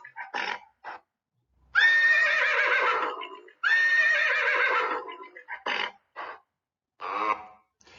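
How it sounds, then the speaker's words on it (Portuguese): A horse neighs in several bursts: short high calls, then two long, loud whinnies with shaking, descending tones, followed by a few more brief calls with silence in between. "Vou colocar o do cavalo para a gente ouvir mais um pouquinho"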